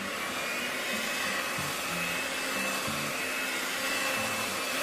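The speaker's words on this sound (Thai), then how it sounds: "เสร็จแล้วกดปั่นไปเลยค่ะ" An electric mixer whirs steadily while beating pandan cake batter, a loud continuous motor drone with slight pitch shifts, close and alone with no talking.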